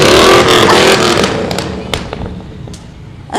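Loud classic car engines roar past close by in a holiday parade, a thick rumbling blast that fades gradually as the vehicles move on, with a few sharp knocks and a brief surge at the end.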